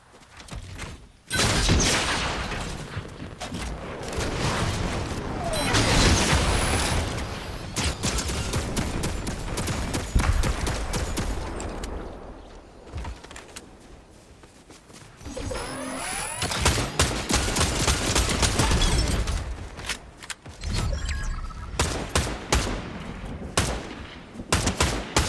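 Dense, loud gunfire from a Fortnite match: long bursts of rapid shots keep going with only short pauses, and a few single cracks come through near the end. The fighting has almost no talk over it.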